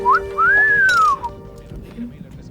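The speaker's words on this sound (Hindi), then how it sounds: "आजकल इन लड़कों का कोई भरोसा नहीं, किसे भी देखकर सीटी मारते हैं" In a Hindi-dubbed film scene, someone whistles at a girl: a quick rising chirp, then one long, loud, arching whistle that fades into faint background noise.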